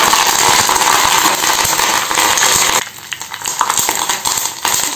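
Curry leaves splutter and crackle in hot oil in a home kitchen, a loud, dense sizzle that drops off sharply partway through, leaving softer scattered pops.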